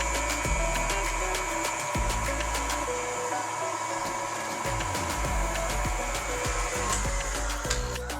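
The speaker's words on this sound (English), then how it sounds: "We're just letting the dough hook do the kneading for us, so we don't have to do it by hand" A stand mixer with a dough hook kneads dough for lasagna, a continuous close motor drone with rhythmic low thumps and knocks as the dough turns, no voices.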